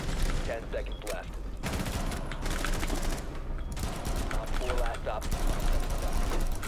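Repeated pistol shots and mechanical clicks in an online shooter video game, fired in quick clusters under continuous background game noise and chatter.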